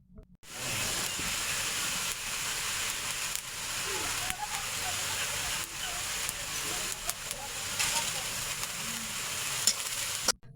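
Khesari (grass pea) greens stir-frying in oil with dried shrimp, a steady loud sizzle with scraping stir strokes throughout, and faint talk in the background.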